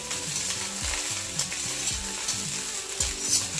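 Street-style egg fried rice stir-fried in a pan with garlic, spring onions and coriander, giving a steady sizzle with rhythmic scraping and tossing strokes, under background music.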